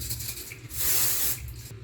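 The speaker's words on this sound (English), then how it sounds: "Just use some dry shampoo." Dry shampoo sprayed onto hair from an aerosol can, a close, loud continuous hiss lasting about half a second amid quieter rustling and low background hum.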